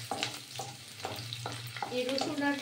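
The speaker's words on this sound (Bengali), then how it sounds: "এই রসুন আর পেঁয়াজ কাঁচা লঙ্কাটা একটু ভাজা হলে" Halved garlic cloves, onion and green chilli frying in a pan for a Bengali pui mituli chochchori, a steady soft sizzle broken by repeated stirring scrapes and clinks, close and moderately loud.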